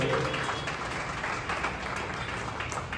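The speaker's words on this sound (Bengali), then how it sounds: "জোরে একটা হাততালি দাও" Audience applause at a cricket team's prize-giving ceremony, a broad steady wash of many hands clapping at moderate level, continuing evenly throughout.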